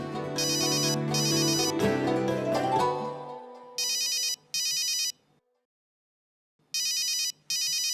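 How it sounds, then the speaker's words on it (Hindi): A phone ringtone chimes in repeated bursts, briefly overlapping a fading musical tone at the start, then pausing before ringing again. "किसका कॉल आ रहा है?"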